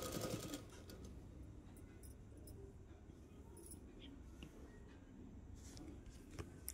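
A sewing machine runs steadily while stitching an umbrella-style dress, a continuous close mechanical whir with a brief heavier burst at the start and no talk over it.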